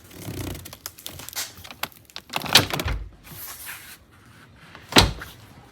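A car door shuts with a solid thud near the middle, then a second firm slam follows a couple of seconds later, amid light rustling.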